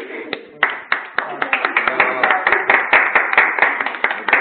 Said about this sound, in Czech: Můžeme si všichni zatleskat.